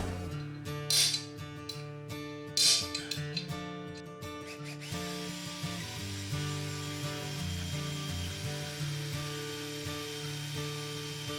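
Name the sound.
drilling a small hole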